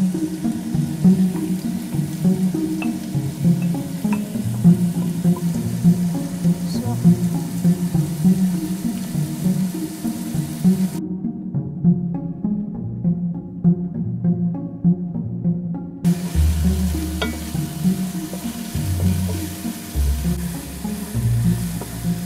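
Onions and other ingredients, then jackfruit for a vegan goulash, fry steadily in a hot pot, giving a continuous soft sizzle with occasional clatter throughout.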